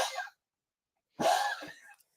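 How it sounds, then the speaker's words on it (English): A dog coughs in two bursts, a short one at the start and a longer harsh one after a pause of silence, close up with no talking. "But the coughing is bad."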